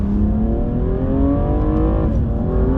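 A BMW M235i engine pulling hard under acceleration from inside the cabin, a loud, steady rising drone with climbing harmonics and a brief dip around a gear change.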